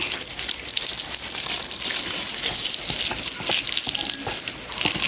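Water pours and splashes over a bicycle as it is washed, an uneven gushing patter with scattered drips and spatters, close and continuous, with no talk.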